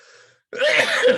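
A single sharp sneeze bursts out after a brief, faint intake and a moment of silence, loud and close.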